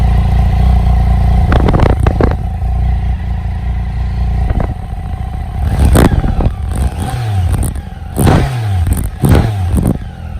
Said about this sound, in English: Let's hear सभी सुनते हैं stock exhaust का note.